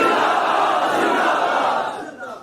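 A large crowd at a religious conference in Pakistan chants slogans in unison, a loud dense roar of many voices that holds steady and then fades toward the end.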